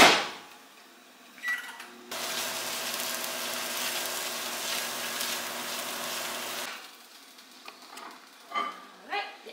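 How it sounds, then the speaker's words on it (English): A microwave oven heating a bowl of oatmeal made with water hums steadily for several seconds after a brief start, then stops, with quieter kitchen clatter before and after. "pop this sucker in the microwave for a couple minutes"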